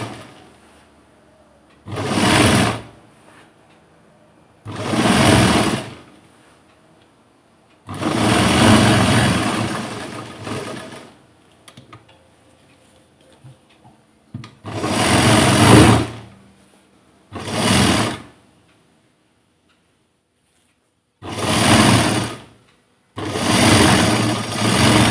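Sewing machine stitching a blouse in a tailoring class, running in repeated loud bursts of steady whirring separated by short pauses, close and with no voices over it.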